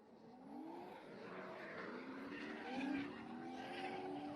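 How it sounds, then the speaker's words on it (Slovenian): Two cars drifting side by side at a national drifting championship, with a steady engine roar and rising, wavering tire squeal at a moderate distance throughout, growing slightly louder near the end. "Kakšna lepa igra, ples dveh driftalcev."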